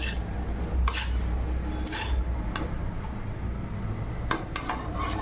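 Salted leafy greens are stirred in a metal pot before it is covered, with a spoon clinking and scraping against the pot several times over a constant low background rumble.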